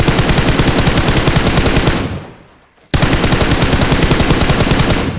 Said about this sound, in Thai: ผมจะยิงหมดเลยนะ